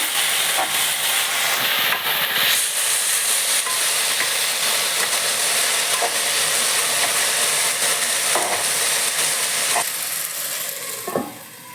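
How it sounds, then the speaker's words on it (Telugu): Drumstick leaves fry in a pan on a medium flame, sizzling and hissing steadily and loudly throughout, with occasional soft stirring scrapes and a brief clatter at the end. "మీడియం ఫ్లేమ్లో ఆకు బాగా వేయించుకోండి"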